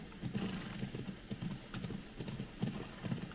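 Horse hoofbeats in Assassin's Creed Odyssey, a quick, even, rhythmic drumming of hooves on the ground, fairly quiet and close, with no voices.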